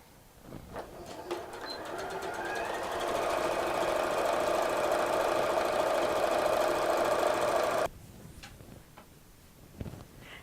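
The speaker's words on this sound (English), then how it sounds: "So I'm going to sew the whole way along and leave a gap in the center." Sewing machine stitching a long seam on a kimono runs in a steady close whirring buzz for several seconds, then stops abruptly, leaving quiet room noise with faint clicks.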